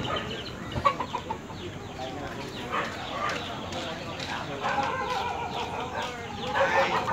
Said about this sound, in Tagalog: mga manok naman, mga manok